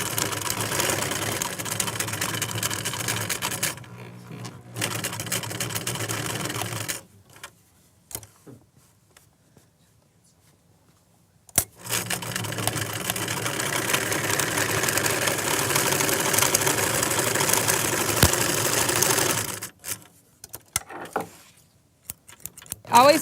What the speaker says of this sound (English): Sewing with a 3/8 inch seam allowance